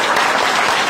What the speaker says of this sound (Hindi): और तालियां बजा दो यार।